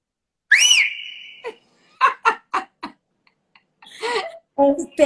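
A woman gives one loud, rising-and-falling whistle close by, followed by short bursts of laughter and a few quick voiced sounds with brief pauses between them.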